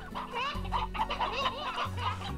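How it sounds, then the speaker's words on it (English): Chickens cluck continuously in the Slime Rancher video game, a busy flock of repeated close clucks over a droning musical background. "So many fucking roosters."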